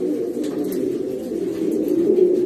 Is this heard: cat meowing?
no